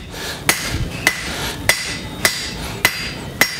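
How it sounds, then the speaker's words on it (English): Six sharp, ringing hammer blows forging a copper spatula, evenly spaced about every half second, loud and close with no talking. "These kind of hits, I'm forging it, but I'm kind of cleaning it as I go."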